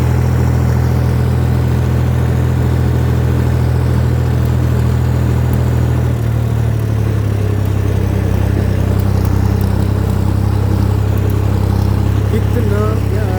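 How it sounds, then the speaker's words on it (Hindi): Tractor pulling a plough through wheat fields: a loud, steady low engine drone runs throughout, shifting pitch slightly midway, with faint voice and outdoor noise over it. "ट्रैक्टर लेके जा रहे हैं।"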